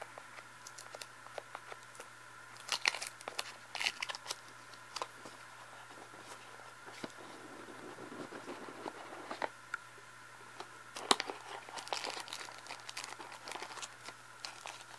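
Plastic bag crinkling while a white Lenovo Vibe P1m phone is unpacked, close intermittent rustles and crackles with scattered handling clicks, quiet and without talk.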